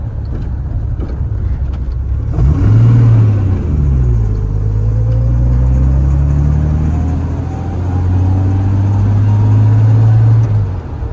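A 1963 Jaguar E-Type Series 1 Coupe engine drones as the car drives along, rising in a deep revving pull, then settling into a steady low cruising rumble with road noise, loud and close.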